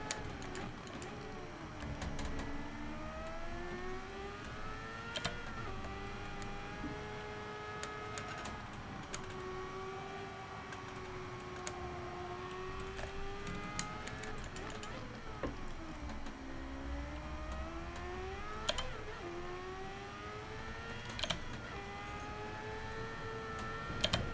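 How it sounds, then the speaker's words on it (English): A Mazda race car engine in the video game Gran Turismo 7 whines continuously, its pitch climbing and dropping repeatedly as it revs through the gears, loud and steady with no talking. "Just love the sound of the Mazda."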